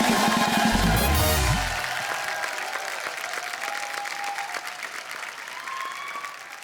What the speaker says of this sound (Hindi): अब मल्लिका के लिए जोरदार तालियां